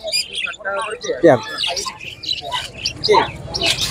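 Caged cockatiels and other exotic birds at a bird market in Serampore give off busy chirps, squawks and tweets, close and continuous, while someone talks over them.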